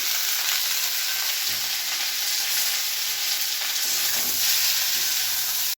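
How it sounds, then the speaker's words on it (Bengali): A loud, continuous, dense sizzle of oil fills the whole stretch as the tempering crackles in a pan along with Malabar spinach, potato and pumpkin. It stays close and steady with no talk over it. "ফোড়নটা আমার বেশ ভালো করে চড়বড় করে ফুটে গেছে"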